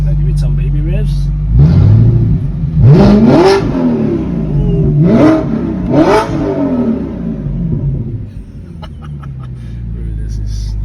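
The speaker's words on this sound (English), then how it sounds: "Can I give it some baby revs?" A straight-piped Audi R8 engine revving up close: a low steady idle breaks into three sharp, loud rising revs that fall back each time, then settles to a quieter idle, with people talking over it.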